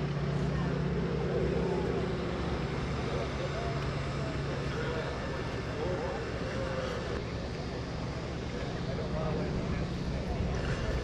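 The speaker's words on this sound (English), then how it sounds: "They built that 450 horsepower Pratt & Whitney radial on the front of the 450 Super Stearman." A 450 Super Stearman biplane with a 450-horsepower Pratt & Whitney radial engine drones steadily at a 2017 Greenwood Lake airshow, a continuous rough engine roar with an announcer talking over it.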